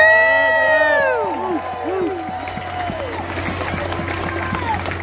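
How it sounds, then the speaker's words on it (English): Crowd applause and cheering at the Rescue the Republic political event, a broad roar of claps and shouts that starts loud and settles into steady clapping under a voice and ringing tones. "A round of applause"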